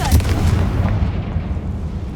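A loud, close blast as a Confringo spell explodes a barricade in the video game Hogwarts Legacy, with a deep booming hit that rumbles and fades over about two seconds.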